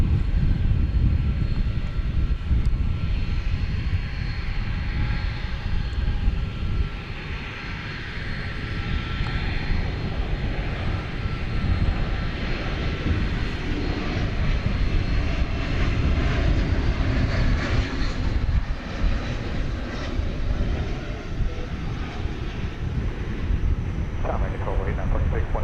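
Jet aircraft engines roar continuously at DFW Airport as a 23-year-old airliner approaches, a broad, sustained rumble that swells and fades slightly while people talk over it.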